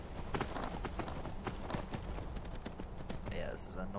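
A horse's hooves gallop in Skyrim VR, a quick, even clip-clop that stays close and prominent, with a voice speaking faintly beneath it.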